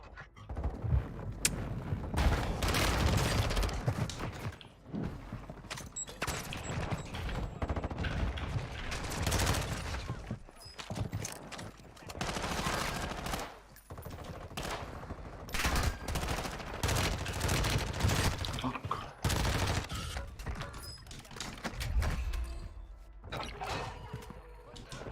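Video game gunfire rattles through a shooter match in repeated bursts of rapid automatic fire and heavy booms, loud and dense, with short lulls between volleys.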